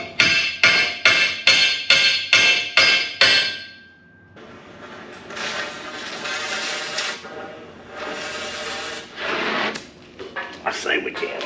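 Eight sharp, evenly spaced hammer blows ring out while modifying an old trailer, followed by scraping, clattering and people talking nearby.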